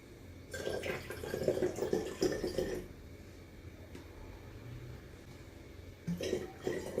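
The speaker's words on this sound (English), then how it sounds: "It's about halfway, so I'm going to fill the rest with distilled water." Liquid is poured through a funnel into a spray bottle in short bursts, giving soft splashing and trickling with a faint clink, quiet and close, with pauses between pours.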